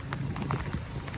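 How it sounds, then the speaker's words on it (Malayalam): A brief stretch of heavy rain pouring down in a park in Lakshadweep as a continuous, even roar. "ഭയങ്കര മഴയാണ്."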